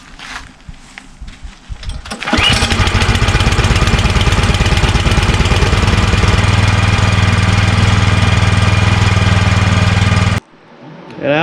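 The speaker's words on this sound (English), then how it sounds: "after running the motor for a bit, making sure the gas is empty" A snowblower engine starts up and runs steadily with its throttle set to slow idle, a loud, even mechanical drone with a rapid putter that holds for about eight seconds before cutting off abruptly, with faint clatter before and after.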